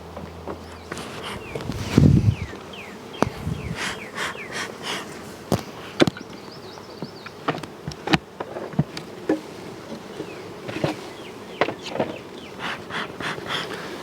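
Honey bees buzz around spring beehives, with repeated close fly-bys rising and fading over a low background drone, plus occasional knocks and footsteps from hive work.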